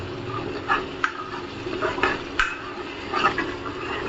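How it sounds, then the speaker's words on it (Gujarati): Spices for a tempering sizzle in hot oil as a utensil stirs and scrapes the pan, with a few sharp clinks and a steady crackle close by. "અહીંયા તેલ તૈયાર છે હવે વઘારવા માટે"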